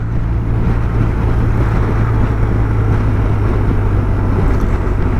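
A 2022 BMW R1250 RT motorcycle's engine drones steadily beneath loud, constant wind rush on the open road, with no clear rise in pitch.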